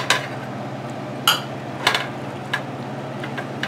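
Raw chokha mash mixed with mustard oil in a bowl, with a few sharp spoon-on-bowl clinks at irregular intervals over soft stirring.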